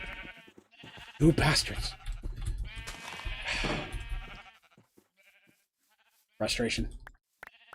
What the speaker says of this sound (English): Got to shear the sheep.